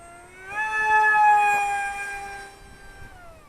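A ZetClip 2 RC plane fitted with a BetaFPV 2004 3000kv motor accelerates, its thin, high-pitched whine rising sharply and then holding a steady tone before easing off slightly, loud and alone with no voices.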